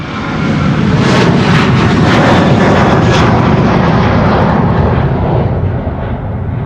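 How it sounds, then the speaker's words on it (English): A Ryanair jet airliner roars down the runway on takeoff at a busy airport, a loud broad engine rumble with rising hiss that builds and holds steady before starting to ease, no voices over it. "This is Ryanair flight 421 going to Dublin"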